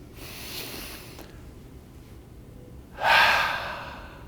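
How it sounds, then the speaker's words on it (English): A keynote audience breathes in together, first as a soft collective inhale, then after a quiet pause a louder, rushing group breath that swells and fades, with no talking. "just take a deep breath in"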